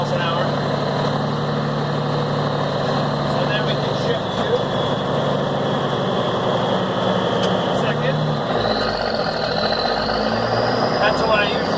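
A 1970 M35A2 deuce and a half military truck crawls slowly in first gear, a steady, close, droning engine rumble with a strong low hum that shifts in pitch near the end.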